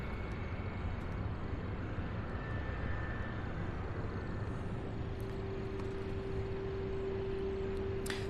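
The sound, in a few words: Boeing 767 aircraft coming in to land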